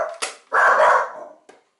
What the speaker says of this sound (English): Excuse the dog, you know what I mean.